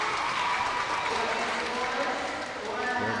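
Applause from teams gathered poolside at a girls' high school swim meet during diving, a dense, steady patter of clapping that fills the whole stretch, with a hint of talk underneath.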